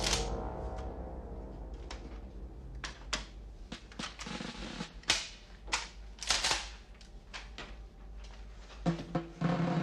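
Sharp gunshots from weapons in a war movie crack out irregularly over about ten seconds, snappy and fairly quiet, some in quick clusters and others spaced apart.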